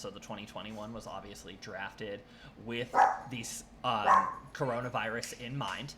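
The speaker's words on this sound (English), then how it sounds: "excuse my dog" A dog barks and yips several times during an online education policy presentation, the barks mixed in under steady close speech.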